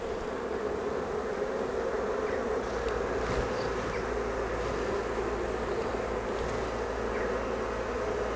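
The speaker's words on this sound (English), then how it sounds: "Bees are getting agitated, what's the problem?" Agitated honey bees buzz steadily around an open hive during a brood inspection, a dense, continuous drone that stays close and loud for the whole stretch with no talking.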